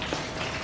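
Heavy rain pours steadily onto a garden, a dense, unbroken hiss close and fairly loud with no breaks.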